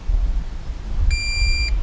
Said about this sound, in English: Okay, there's your beep.